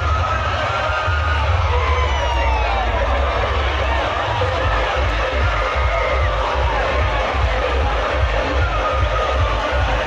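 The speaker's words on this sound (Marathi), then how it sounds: "फायनलचा जल्लोष." Crowd noise at the Amdar Kesari wrestling final in Vadgaon, a dense, steady roar of cheering and babble with whoops, loud and sustained throughout, punctuated by low rhythmic thumps that may be drums.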